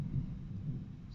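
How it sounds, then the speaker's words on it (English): A thunderstorm rumbles outside, a faint low continuous roll of distant thunder heard through walls, steady and muffled with no talk over it. "There appears to be some sort of storm out there"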